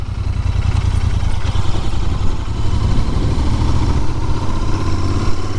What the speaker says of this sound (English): Listen to that engine, and that's with OEM exhausts.